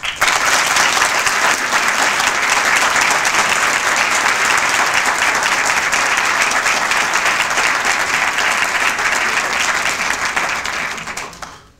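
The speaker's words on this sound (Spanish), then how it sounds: "Creo que ellos merecen un aplauso" Sustained, loud audience applause at the closing ceremony of an economics and finance diploma course, a dense uniform roar of clapping for about eleven seconds that fades at the end.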